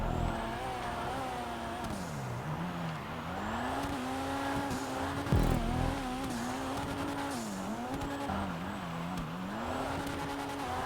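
Dinka Jester Classic sports car in GTA with its power boost engaged: a continuous, loud engine drone whose pitch repeatedly dips and climbs as it revs, with tire squeal and a brief thump near the middle, and no talking.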